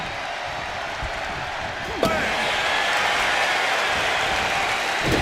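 Loud, sustained roar of a wrestling arena crowd at a televised WWE event, broad noise throughout with a sharp slam-like hit near the middle, while a commentator talks over it.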